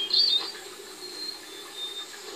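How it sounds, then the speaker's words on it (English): Ambient birdsong in the video game The Walking Dead: Survival Instinct, a brief high chirp at the start over a steady, faint insect-like hiss of outdoor background. "Listen to the sweet sound of the birds."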